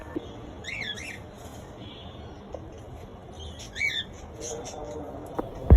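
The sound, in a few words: pet cockatiels and lovebirds squawking in cages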